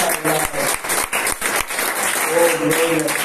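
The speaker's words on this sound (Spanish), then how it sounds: "Dale un aplauso al Señor." A church congregation claps loudly in a sustained burst of applause with uneven rhythm, and voices speak and call out over it.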